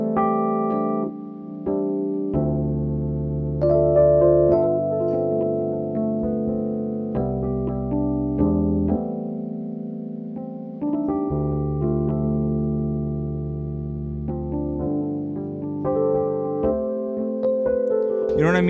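A Rhodes electric piano plays a steady run of warm chords with its high-end filter turned down, giving a darker, muffled tone, close and continuous for several bars with no talking.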